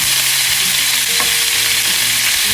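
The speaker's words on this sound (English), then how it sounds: "Leave it like that so you can sear the beef." Beef sears in a pan over high heat, giving a loud, close, continuous sizzle and crackle with no voices.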